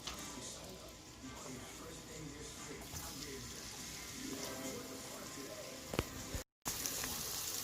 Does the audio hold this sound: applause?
no